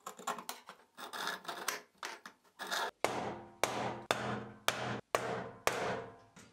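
Center punch struck on a metal part being marked out in a workshop while building a homemade dual-motor grinder: a run of sharp hammer taps, then several louder, evenly spaced ringing blows, close and alone.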